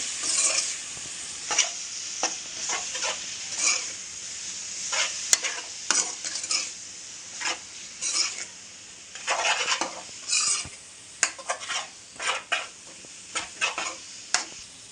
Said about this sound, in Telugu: కాసేపు అయితే ఇలా మిక్స్ చేసుకోవాలి